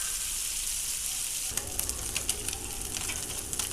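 About 500 grams of fish fry in hot oil, a steady close hiss that jumps into a louder, crackling sizzle with spitting pops about halfway through.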